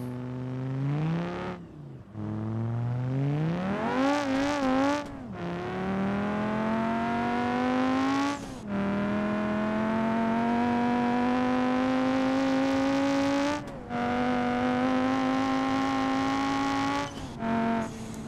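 A 200BX car engine in BeamNG.drive revs hard through long rising pulls, each climb cut by a brief gear-shift dip before pitch builds again, loud and close with a buzzy harmonic whine and no talk over it.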